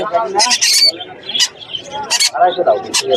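Pineapple and green-cheek conure chicks call at a busy street bird market in a series of shrill, raspy squawks and chirps, close and loud, mixed with nearby voices.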